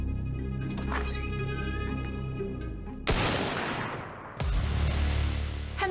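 A gunshot from the trailer for the Korean film The Recon cracks sharply over a tense musical score, followed by a second heavy, booming impact that rumbles on.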